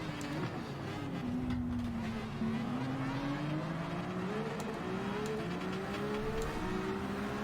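Ferrari VGT race car engine in a racing video game on the Spa circuit, a steady high drone with pitch gradually climbing as it accelerates, loud and continuous with no talk.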